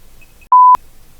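A Radiomaster TX16s radio transmitter gives one short, clean electronic beep, a single steady tone lasting about a quarter second in otherwise near silence.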